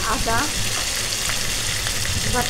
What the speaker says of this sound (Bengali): আমরা একটু নাড়াচাড়া দিয়ে নিব। যখন পেঁয়াজটা একটু বাদামি কালার হয়ে যাবে